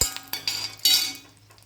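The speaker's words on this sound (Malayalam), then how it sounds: "സ്റ്റൗ ഓഫ് ചെയ്ത് നമുക്ക് കരിഞ്ഞതിന് മുമ്പായിട്ട് ഇത് കോരി മാറ്റിയെടുക്കാം." A spoon scoops fried ingredients out of a pan just after the stove is switched off, giving a few light metallic clinks and scrapes in quick succession, close and fairly quiet, with no talking.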